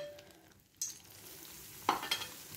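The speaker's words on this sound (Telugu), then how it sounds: "అలా ఆయిల్ పోస్తూ తిప్పాలన్నమాట." Oil pours into a Mysore pak mixture while a spoon stirs it in the pan, giving a soft sizzle with a couple of brief scraping clicks close up.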